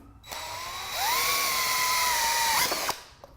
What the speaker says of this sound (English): I just screw my screw in.